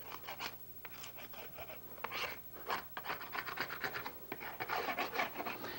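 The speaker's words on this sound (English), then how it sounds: "We shave it to make sure that we don't have that little scrap of wood." A knife shaves a wooden wedge cleat, making soft, rapid rasping scrapes in quick successive strokes, fairly faint and close, with no talking.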